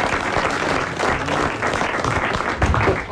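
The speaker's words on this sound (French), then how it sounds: "on vous applaudit" A French television talk-show studio audience applauds steadily, a dense, sustained wash of many hands clapping close and loud throughout, with no voices over it.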